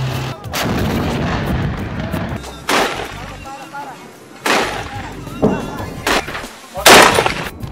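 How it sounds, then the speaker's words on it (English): Bombs exploding over Sana'a, Yemen in wartime: several loud, booming blasts burst out at irregular intervals over a rumbling background, with voices calling out between them. "With bombs going off almost every night."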